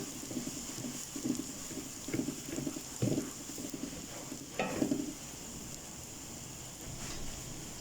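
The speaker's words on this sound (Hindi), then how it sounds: "इसको भूनते जाना है" Semolina roasting in oil scrapes and sizzles under repeated rhythmic stirring, a soft steady frying hiss beneath periodic spoon strokes against the pan, close and moderately quiet.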